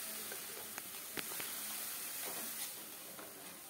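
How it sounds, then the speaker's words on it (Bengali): Dried red chillies, five-spice seeds and masala fry in oil in a wok, giving a soft, steady sizzle and hiss with a few faint clinks, quiet throughout. "আরেকটা কড়াইয়ের মধ্যে তেল দিয়ে দিলাম, দিয়ে দিচ্ছি শুকনো লঙ্কা, 5 ফোড়ন আর আমার মশলাটা দিয়ে দিলাম।"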